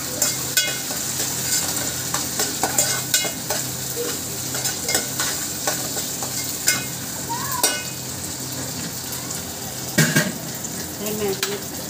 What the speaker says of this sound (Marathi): थोडीशी आलं लसूण पेस्ट टाकली आणि ते आता चांगल्या प्रकारे मिक्स करत आहे